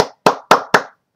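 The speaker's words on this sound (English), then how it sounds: "got to give her a round of applause" Four sharp, close hand claps in an even rhythm, loud and dry with brief ringing decay after each, then silence.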